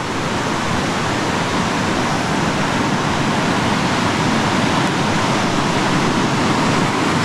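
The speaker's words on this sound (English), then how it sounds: "Okay, so we're approaching the waterfalls." Steady, loud roar of rushing water from the Mekong River rapids and waterfalls at Don Khone, Laos, a dense continuous broadband wash with no pauses or voices.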